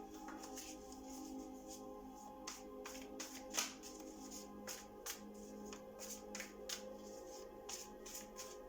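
Soft, rapid riffling and tapping of tarot cards being shuffled, with occasional sharper snaps over a quiet steady hum; no talking.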